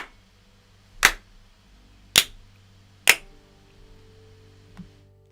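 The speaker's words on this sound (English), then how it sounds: "Those claps are way too loud for the mic." Three loud, sharp hand claps about a second apart, each spiking hard enough to overload the microphone, followed by a faint tap, with no talking.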